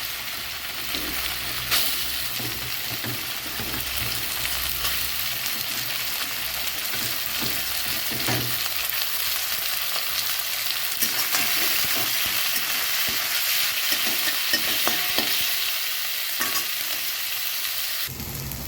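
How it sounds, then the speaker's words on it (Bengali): Chicken pieces frying in a wok with a little hot oil for chicken fried rice, a loud steady sizzle running throughout with scraping stirs and clatter from the utensil, no voices. "এবার চলো মাংসটা ভেজে নেবো"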